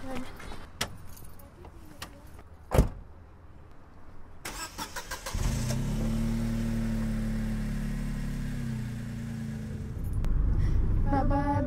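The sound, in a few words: car engine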